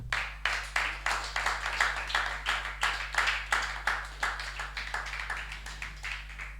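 A church congregation claps together in a steady rhythmic beat, many hands sounding close and loud over a constant low hum, with no talking over it.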